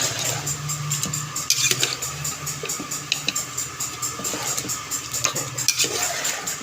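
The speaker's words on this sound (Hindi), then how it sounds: "चिकन को फ्राई कर लें" Chicken frying in a pan for korma, with a steady sizzle under repeated scraping and clinking of a spoon stirring against the pan, fairly close.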